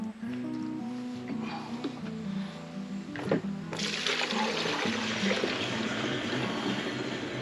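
Diesel fuel is poured into a container. A liquid gush and splash starts partway through and stays steady and fairly close to the end, over a low background hum.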